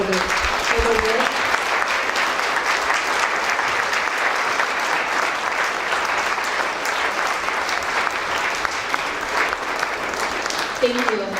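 Sustained applause from a large audience at a business and leadership awards ceremony honouring the board of directors, steady and dense clapping lasting throughout with no break.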